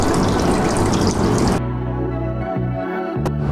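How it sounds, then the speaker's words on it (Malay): Water drains from an aquarium fish tank with a loud, steady rushing splash that stops abruptly, followed by quieter gurgling and a brief splash. "Okay, jom kita pergi buang air ni dulu."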